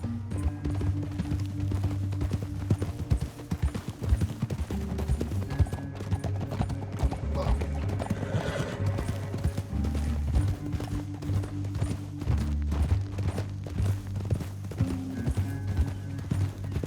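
Hooves pound in a steady, rapid galloping rhythm in the game Red Dead Redemption 2, continuous and close, over a low rumbling musical backdrop.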